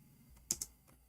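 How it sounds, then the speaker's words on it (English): Two quick, crisp keystrokes on a computer keyboard click close together, faint and otherwise quiet apart from a soft background hum. "I'm typing in English again."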